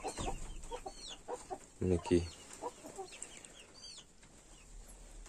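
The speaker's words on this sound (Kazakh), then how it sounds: "тауықтарымыз, брамалар барлығы жүр." Brahma chickens clucking in short scattered bursts, with one louder, closer squawk near the middle over a faint background, and a voice briefly speaking at the start.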